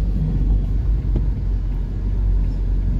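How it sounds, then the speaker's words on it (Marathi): Cars drive through a flooded road, making a steady low rumble of engines and tyres pushing through standing water, with no voices. "तो किती पाणी जमा झालंय बघा गाड्या पाण्यातून चालल्या"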